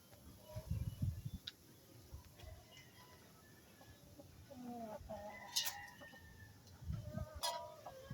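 Chickens cluck and murmur softly nearby, with a rooster crowing faintly in the distance; outdoor rustling underneath.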